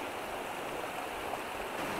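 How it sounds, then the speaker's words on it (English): Small waterfalls in a stream below a Glenshee chairlift in summer, a steady, close rushing splash of falling water that holds even and unbroken throughout, with no voices. "Some mini waterfalls."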